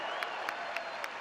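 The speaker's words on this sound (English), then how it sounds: "graduates, you deserve that loud applause" Crowd of friends and family applauding and cheering for graduates at a University of Wisconsin–Madison winter commencement, a dense steady wash of clapping with a few sharper accents, no talk over it.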